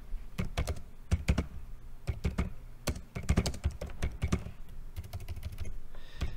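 Close, clicky keystrokes on a computer keyboard while writing Python code, tapped in quick uneven bursts with short pauses, steady and moderately loud with no voices.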